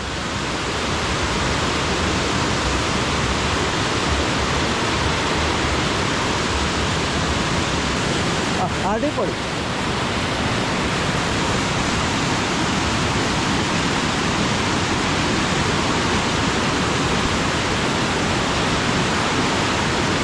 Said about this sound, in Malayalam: ഇത്രയും മനോഹരമായ വെള്ളച്ചാട്ടം.